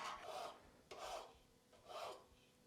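A hand file rasps across the metal body of a miter plane to round over its back, giving three slow, even scraping strokes, close and quiet with no talking.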